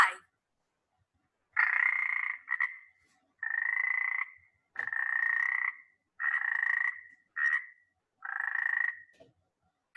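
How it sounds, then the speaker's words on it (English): A frog croaks in repeated loud, raspy bursts of about a second each, with short gaps between them, close and clear against silence. "That's a frog."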